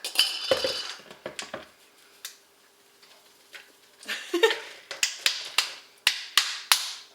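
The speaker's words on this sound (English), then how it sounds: "And then I'm going to dump in my cookie mix in a jar" Chocolate chip cookie mix dumped out of a glass jar makes a rustling pour followed by a series of sharp clinks and taps, close and irregular with quiet gaps between.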